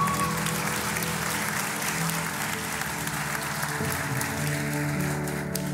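Applause for a mother-in-law from a church congregation, a sustained patter of clapping from a large crowd, moderately loud, with a low musical drone underneath.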